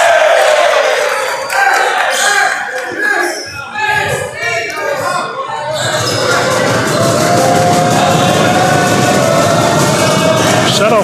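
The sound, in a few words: crowd cheering loudly in a school gym during a basketball game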